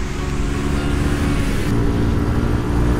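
The Jawa 250 motorcycle's engine drones loudly and close while riding on a cold autumn outing, a steady running note that holds through the short stretch with slight shifts in pitch and no talking.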